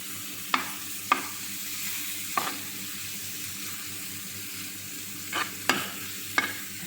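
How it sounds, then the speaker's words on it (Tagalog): Tuna sambosa filling being stirred in a pan: a steady low sizzle with several sharp scrapes and clinks of the spoon against the pan at irregular intervals, close and fairly quiet, no talking. "Mix lang natin para mahalo yung mga sarsaba."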